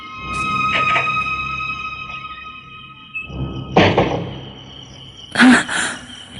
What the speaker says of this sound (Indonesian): Suara pintu dikunci.